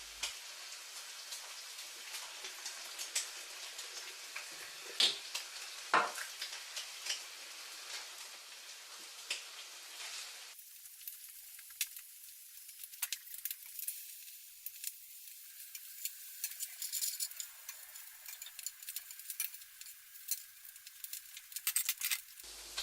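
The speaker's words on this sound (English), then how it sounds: "Now when I'm frying my tomato" Tomato slices frying in a pan give a steady, close crackling sizzle with scattered sharp pops, brightening and thinning partway through as the fat spits more lightly.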